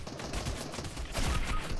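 Gunfire in the Fortnite video game, a dense run of shots and bursts from more than one direction, continuous and fairly loud throughout, with no talk over it.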